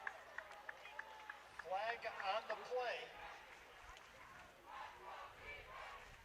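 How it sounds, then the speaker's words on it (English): Crowd cheering at a high school football game between Holliston and Medway, a loud swelling roar with shouts rising midway and fading to a murmur, heard under a commentator's talk. "Holliston's cheering."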